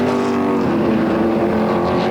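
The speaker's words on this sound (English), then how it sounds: "there's a full lineup of race cars behind him" Vintage modified race cars roar around Flamboro Speedway in a close pack, a loud, sustained engine drone with shifting pitch as the field runs nose to tail.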